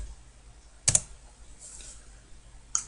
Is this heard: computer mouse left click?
yes